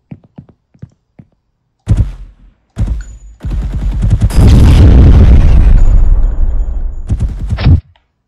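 A destructible barrel blows up under Unreal Engine 5 Chaos physics, heard as a few sharp clicks and thumps followed by a loud, sustained blast and debris rumble that runs several seconds before stopping abruptly.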